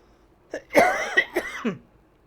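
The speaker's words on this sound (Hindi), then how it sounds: "खांसी आने लगी मुझे" A short burst of several coughs, close and fairly soft, with a throaty rasp between them.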